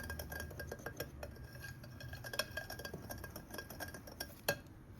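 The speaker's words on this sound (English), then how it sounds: "I just combine all these ingredients with my wire whisk." A wire whisk stirs gingerbread cookie ingredients in a bowl, giving soft, faint scraping with light clinks against the bowl in an uneven rhythm, close by and without talk.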